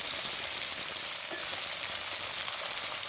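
Jackfruit seeds and potato frying together in a pan, giving a loud continuous hiss and crackle of hot oil with soft stirring movements underneath, no talking.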